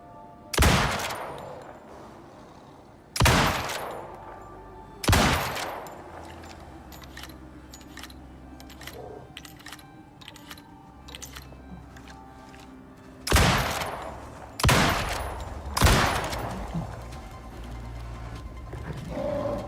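Gunshots from the Icarus video game ring out in sharp, loud bursts: a few separate blasts early, then a cluster of three near the end, with quieter clicks and a low hum between them.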